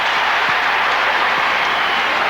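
A large stadium crowd of tens of thousands roars steadily at the NCAA Division I men's lacrosse championship game between Syracuse and Navy in Baltimore, a dense, continuous wash of cheering with no gaps.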